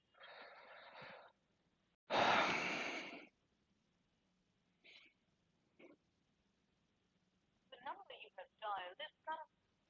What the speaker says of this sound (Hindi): मुझे जरा एक बार नेट प्रोवाइडर को फोन कर लेने दो